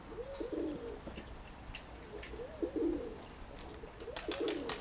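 Pigeons coo nearby in three repeated soft, rolling phrases, with a few short flutters and clicks between them and no talking.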